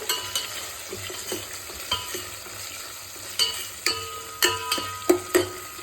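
Curry leaves fry in hot oil for Chennai-style sambar, a steady close sizzle punctuated by repeated sharp spatula taps and stirring clicks against the pan.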